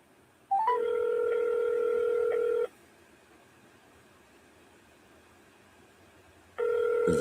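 An outgoing telephone call rings through on the line: a steady electronic ringback tone lasts about two seconds, then a long quiet pause, then the tone starts again, with no talking.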